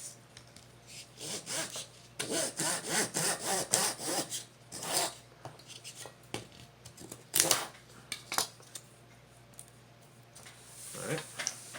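A hand saw cuts through the wooden block of a Native American style flute, its rough rasping strokes coming in uneven bursts, close and fairly loud, with short pauses between runs.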